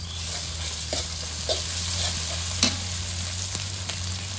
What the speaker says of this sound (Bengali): কাঁচামরিচ বাটা দিয়ে দিই